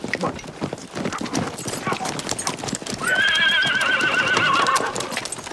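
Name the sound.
horses hooves clip-clopping and neighing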